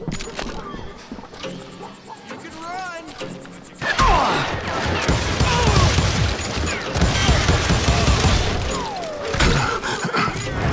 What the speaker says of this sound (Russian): Быстрый выстрел.